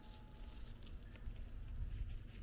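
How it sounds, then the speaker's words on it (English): Outdoor wind buffets the microphone during shirt tie-dyeing, a faint, low, rumbling gusty noise that swells and fades over a couple of seconds. "It's windy today."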